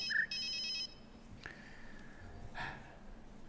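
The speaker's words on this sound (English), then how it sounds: "There's a phone ringing." A telephone rings with a bright electronic trill in short bursts at the start, then cuts off, leaving faint room noise and a couple of soft breaths or rustles.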